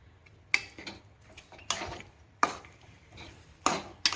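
Raw mango chutney with jaggery stirred in a pan, with five distinct sharp knocks of a spoon against the pan at uneven intervals, close and clear against near silence.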